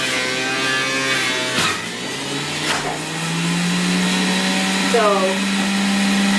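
A masticating juicer runs with a steady motor whine and hum that shifts pitch as produce feeds through, loud and close, with a brief spoken word over it.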